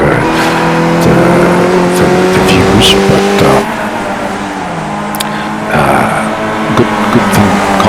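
Race car engine in the iRacing sim at Road America, loud and continuous with throttle feathering, shifts and revving through corners, and a person talking over it.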